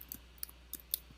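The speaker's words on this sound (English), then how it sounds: "I'm going to type in my website" A computer keyboard clicks out a website address as a few quick, faint, separate keystrokes in a quiet room.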